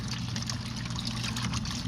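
A tiny washing machine two-thirds full of water with a single t-shirt churns steadily, giving a continuous sloshing wash and a low motor hum, close up and without pauses.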